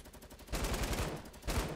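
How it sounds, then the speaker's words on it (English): Light machine gun fire in Fortnite Battle Royale, heard as a dense, loud burst of rapid shots that starts about halfway in, pauses briefly, then resumes near the end, with no talk over it. "We have to kill him with the light machine gun."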